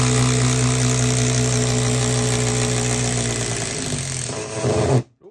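A Makita TD173 impact driver hammers out a bolt in one loud, steady rapid rattle lasting several seconds, then cuts off abruptly.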